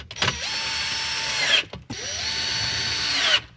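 A power drill drives the two bottom screws of a Boost Auto Parts towing mirror panel on a Chevrolet Colorado or GMC Canyon. Two close, steady whirring runs of about one and a half seconds each are separated by a short pause, with no talk.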